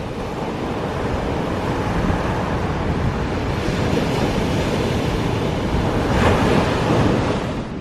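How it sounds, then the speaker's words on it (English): Strong wind blowing at Bonny Doon Beach, a steady, close rushing roar that fills the clip, with surf churning underneath and a brief surge near the end. "It's pretty windy today"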